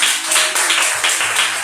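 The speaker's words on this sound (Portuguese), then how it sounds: "Então fique de pé, aplaudindo bem forte a palavra do Senhor" A church congregation applauding hard while standing, dense continuous clapping from many hands at close range, loud and sustained with no break.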